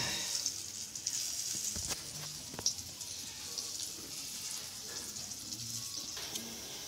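Cauliflower pakoras fry in hot oil with a soft, steady hiss and sizzle, broken by a few light pops and clicks, fairly quiet and close.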